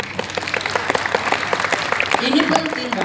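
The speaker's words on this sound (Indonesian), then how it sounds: "Tepuk tangan saya." A crowd claps in a dense, steady patter throughout at a Tegal culture festival competition, with some voices mixed in beneath the applause.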